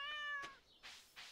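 Cat meowing in the video game Stardew Valley, a single clear close meow followed by two soft breathy rustles, with no talking.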